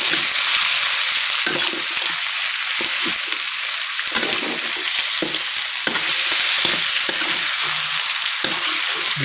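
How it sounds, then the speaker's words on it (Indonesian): Chicken frying with yellow spices, shallots and garlic, stirred in a pan with a loud continuous sizzle and frequent scraping, clattering spatula strokes close up. "Aduk-aduk."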